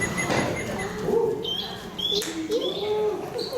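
Squeezable toy birds let out realistic cooing and chirping calls, several short whistled notes in a row, with a person talking over them in a room.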